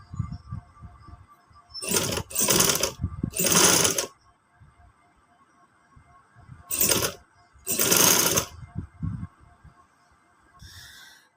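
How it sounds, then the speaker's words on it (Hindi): A sewing machine stitches cut lace flowers onto fabric for a neck design in short bursts, three quick runs, a pause, then two more, close by, with faint quiet handling between them. "अब हम इसको यहाँ लगाते जाएंगे और ऊपर से सिलाई लगाते जाएंगे"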